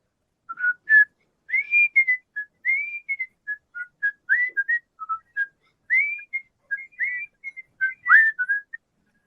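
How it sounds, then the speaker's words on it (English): A man whistling a lively, bouncing tune of short chirpy notes and quick slides, clear and close against a silent background, with no talking. "You've got such a good whistle."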